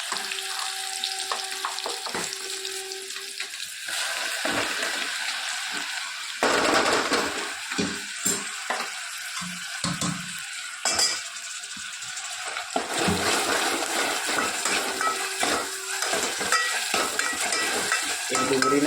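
Onion, tomatoes, garlic and green chillies frying in a pan, giving a steady close sizzle broken by stirring and utensil clatter. No one speaks.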